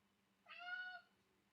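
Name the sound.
cat meowing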